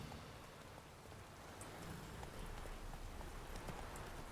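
Hooves of Geralt's horse Roach in The Witcher 3, a soft clip-clop of walking steps under steady rainfall, faint and scattered across a wash of ambient noise.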